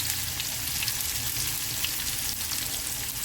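Shredded cabbage and tomatoes frying in a pan with salt, a constant close hissing sizzle with faint crackles throughout.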